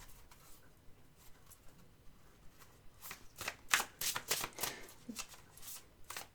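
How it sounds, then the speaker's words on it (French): Tarot cards are handled quietly at first, then shuffled and slid in a quick run of crisp, close flicks before one is pulled from the deck. "Je vais retirer une carte."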